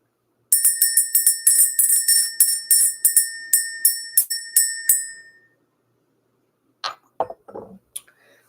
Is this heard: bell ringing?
yes